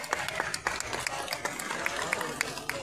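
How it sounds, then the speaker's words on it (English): Scattered audience applause at a sheepdog demonstration at the Sydney Royal Easter Show, with irregular, fairly faint claps from a crowd at some distance over outdoor background noise. "we give that Sally a round of applause there, please?"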